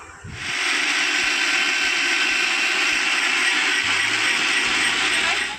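A mixer grinder jar grinds soaked urad dal with a loud, steady high-pitched whirring drone that starts abruptly, runs evenly for about five seconds, then cuts off.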